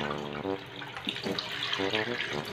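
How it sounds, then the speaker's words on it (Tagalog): Tap water running over a mango being washed at a sink, a steady splashing rush with shifting gurgles as the fruit moves under the stream, close and loud. "Hugasan muna natin yung mangga."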